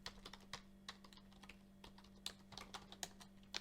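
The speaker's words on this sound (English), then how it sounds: "I'm doing my wireless Bluetooth keyboard, so my typing's garbage on this" Typing on a wireless Bluetooth keyboard, a quick irregular patter of close, crisp key clicks in short bursts over a steady low electrical hum, with no talking.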